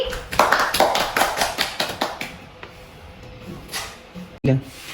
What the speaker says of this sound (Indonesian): beri aplaus untuk Afi